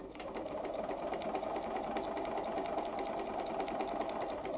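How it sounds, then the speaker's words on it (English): A Bernina 930 sewing machine stitches along a line, running at a steady rapid rhythmic whir with fine repeated needle clicks, close and fairly quiet, with no voices. "And we're going to sew on that line."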